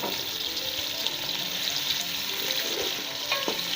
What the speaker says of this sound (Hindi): इतना गरम किया है कि प्याज अच्छा सा फ्राई होके रेड हो जाए।